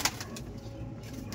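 A Kalasobuj Kaldom pigeon coos softly in a loft, a low murmuring call over steady background rustle, with a brief sharper burst at the very start.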